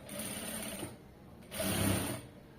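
A sewing machine stitching a side joint on fabric, a quiet rapid mechanical whirr in two short bursts separated by a brief pause.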